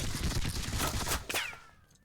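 Musket volleys in a Seven Years War strategy game, the Battle of Zorndorf, crackle in a dense, continuous fusillade of overlapping shots, fading out toward the end.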